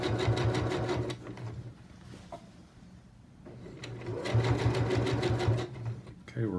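An EverSewn Sparrow 20 sewing machine stitches a hem on Levi's jeans in two fast, rattling bursts separated by a quieter pause, loud and close.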